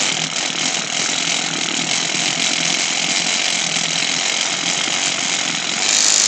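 A felting machine needle runs steadily, a fast, even mechanical buzzing that holds at the same level throughout, with no talk.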